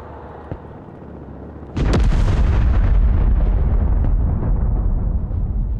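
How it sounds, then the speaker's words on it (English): A Tomahawk missile strike in the war video game Broken Arrow hits after a quiet lead-in, a sudden loud, deep blast that rolls on as sustained rumbling explosions and crackling debris, heavy and close with no talking. "That tomahawk blast. The sound of it sounds so good."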